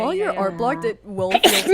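A person's quick sneeze with a high, cat-like squeak, breaking into casual conversation during a group drawing and art chat. Voices talk before and right after it.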